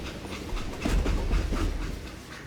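Train rolling along tracks in Call of Juarez: Gunslinger, a rumbling clickety-clack that swells in the middle, moderately distant with no voices.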